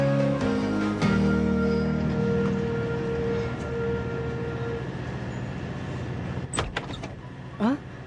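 Steady rumbling drone of a train with a low tonal hum, a few dull clunks and squeaks partway through.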